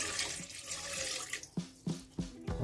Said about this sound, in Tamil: அந்த தண்ணியை வந்து நான் இப்போ ஆட் பண்ணுறேன்.